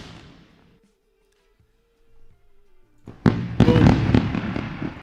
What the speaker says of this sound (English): Time to run the fireworks.